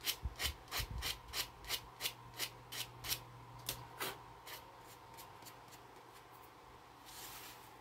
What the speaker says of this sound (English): Sand it a little bit. Sand the front a little bit.